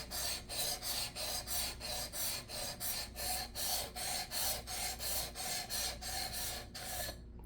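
A MACE GuitarWerks Fret Wizard files across guitar frets to level them, a steady rhythmic rasp of back-and-forth strokes, about two per second, close and moderately quiet.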